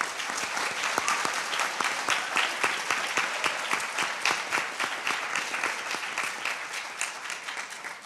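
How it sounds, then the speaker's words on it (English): An audience applauds finalists at a United Nations event, a sustained, dense round of clapping from a large crowd in a hall that tapers slightly toward the end. "Let's give all of our finalists a round of applause."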